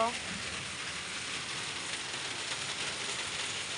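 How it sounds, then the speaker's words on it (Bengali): Heavy rain pours steadily onto a street and a tin roof, a dense, even hiss of falling water that carries on without pause from start to finish. "এই দেখো দারুণ বৃষ্টি"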